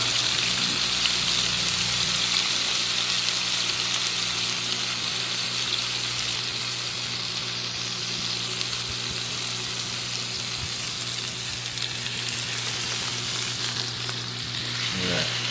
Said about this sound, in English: You want that good sear, because what that's going to do is it's going to now cook that custard we just made.